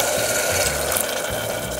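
Water poured from a half-filled tumbler into a pot of plain roadside-style salna (empty chalna) cooking on the stove, a steady close splashing pour with faint clinks, no talking.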